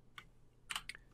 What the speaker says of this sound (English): just press P on the keyboard